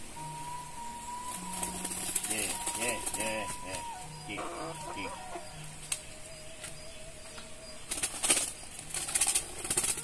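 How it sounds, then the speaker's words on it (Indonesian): A zebra dove (perkutut) kept in a village in West Java gives repeated soft cooing phrases while people talk nearby, with occasional clucks and rustles in the background. "Oh, ieu mah titiran. Perkutut."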